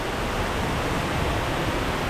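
Tumpak Sewu waterfall roars in a steady, dense wash of falling water heard up close beside a trekking path and stairway, unbroken and loud for the whole stretch with no voices.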